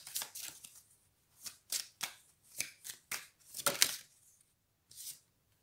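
Oracle cards being shuffled by hand: a run of crisp, close riffling and flicking bursts in irregular quick clusters, separated by brief silences, with no talking.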